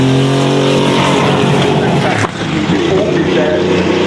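A loud, roaring Porsche 917-30 Can-Am race car engine, a turbocharged flat-12, drones continuously, its dense harmonic snarl briefly dipping midway before surging again, steady and close throughout.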